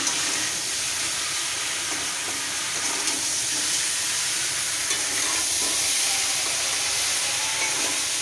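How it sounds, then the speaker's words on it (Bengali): Ground ginger and fenugreek stir-fried in hot oil for a jackfruit curry, a loud, dense, unbroken hiss and sizzle, close up, with faint stirring scrapes and no speech. "এই যে আদা বেটে রেখেছিলাম আদা দিয়ে দিলাম এবার একটু নাড়িয়ে নিই"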